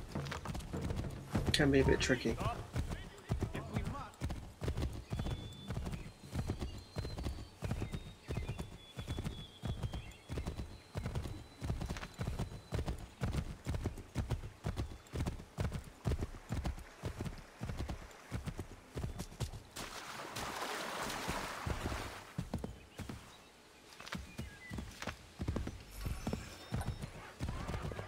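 Horse hooves clip-clop in a steady rhythm through Assassin's Creed III's Boston and frontier areas, a brief whinny near the start, with someone talking over most of it.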